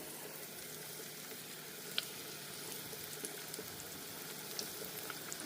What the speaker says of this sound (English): And then let that fry.